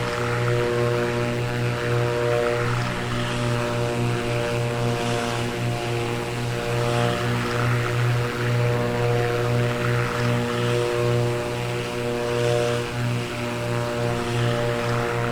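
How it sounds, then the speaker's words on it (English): Twin propellers of a Black Square Baron in the MSFS flight simulator whir in a steady, loud drone with a faint rhythmic beating as the two engines drift in and out of sync, with no voices. "As you can hear, those propellers whirring, getting in sync with each other, sound absolutely fantastic."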